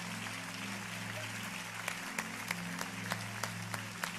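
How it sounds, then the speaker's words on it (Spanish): A church congregation claps in applause, a continuous soft patter of many hands with sharper claps popping out at regular intervals and a low steady hum underneath, fairly quiet and without talk. "Quiero que le des un fuerte aplauso por animarse hoy"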